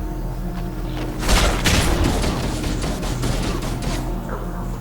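A powerful weapon explodes at close range in the video game Halo: Combat Evolved, giving a loud booming blast with a crackling, rumbling tail that rolls on for several seconds at steady loudness.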